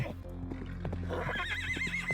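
A horse whinnies loudly in a long wavering neigh, preceded by a series of sharp hoof clip-clops and thuds in a dramatized scene.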